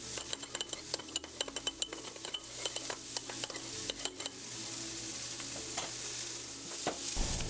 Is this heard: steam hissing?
no